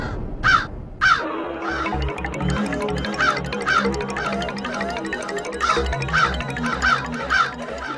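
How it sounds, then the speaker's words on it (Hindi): A crow caws repeatedly, harsh calls in irregular bursts over a low rhythmic rumbling background, fairly close and clear. "सुनने में ये कौवे की आम सी काव काव लग रही है"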